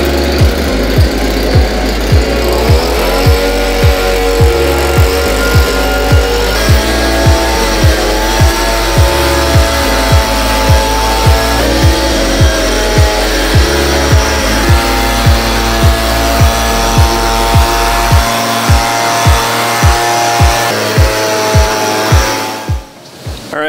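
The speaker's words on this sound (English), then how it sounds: "let's go give it a mow" A mower cuts a bentgrass putting green, its engine running loud and steady throughout with a regular repeating pulse, then cutting off abruptly near the end.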